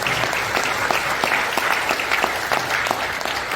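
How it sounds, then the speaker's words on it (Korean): A crowd in a conference hall at a morning prayer service claps together, sustained and even, with the sound of many hands filling the room. "오늘 많은 분들 오셨는데 우리 박수 한번"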